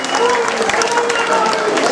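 An audience applauds a performer, a loud, close burst of clapping mixed with shouting and cheering voices that runs for about two seconds.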